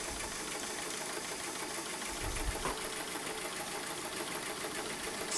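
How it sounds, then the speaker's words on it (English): Sewing machine running steadily while zigzag stitching stretched fabric for a petal-sleeved top, a continuous close mechanical whir with no pauses. "And I'm just going to start zigzagging. And I'm stretching it as I zigzag it."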